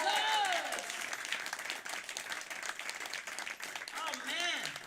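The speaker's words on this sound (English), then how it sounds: "Give yourselves a round of applause." Live show audience applauding, a steady clatter of many hands at moderate distance, with a voice exclaiming at the start and again near the end.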